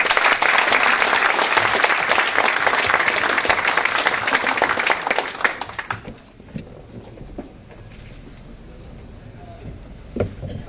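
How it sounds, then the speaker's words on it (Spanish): Loud, dense audience applause at an engineering event in Lima fills the first six seconds, then drops off sharply to scattered claps and quiet room noise. "Un fuerte aplauso,"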